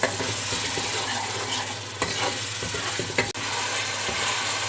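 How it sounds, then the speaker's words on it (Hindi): Masala with yogurt stirred and fried in a pan while cooking Lahori mutton paya, a steady close sizzle with scraping spoon strokes throughout and a few sharper clinks. "इसमें शामिल कर देंगे और फिर से अच्छी तरह मसाले को भून लूँगी।"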